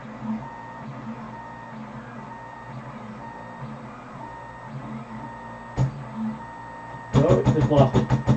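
An HE3D K280 delta 3D printer runs with a steady mechanical whine and hum, then gives a sharp knock, and near the end a burst of louder rhythmic stepper-motor buzzing and clatter.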